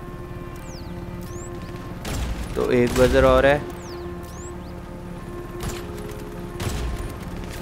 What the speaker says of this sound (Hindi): तो एक्सप्लोजिव बुलेट्स,